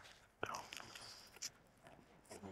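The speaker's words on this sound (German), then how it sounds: "Ich habe hier meinen ersten Wing. Ich habe jetzt schon wunderbar eingetaucht und jetzt werde ich mal abbeißen." A bite into a grilled Korean crispy chicken wing dipped in sauce, heard close and quiet as one sharp crunch followed by a few softer crackles and chewing sounds.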